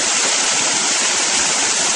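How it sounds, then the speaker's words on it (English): Irrigation water rushes through a waste gate on a farm canal during flood irrigation, a loud, steady broadband roar like a small waterfall, continuous and close with no voices. "Water coming through."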